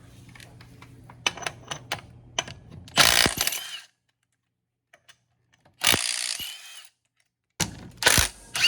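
A ratchet wrench loosens the axle nut on a Polaris RZR side-by-side, with quick clicking strokes, then bursts of loud fast ratcheting separated by silent pauses, close up.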